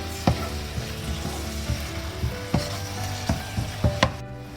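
Egg biryani masala with coriander leaves sizzles and fries in a pan, a close continuous crackle punctuated by regular knocks and scrapes of a spoon stirring against the metal.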